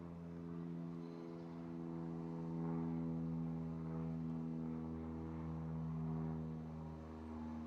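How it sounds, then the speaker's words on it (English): A propeller airplane drones steadily overhead, a constant low engine hum that swells slightly in the middle and stays loud throughout. "I hear a plane coming."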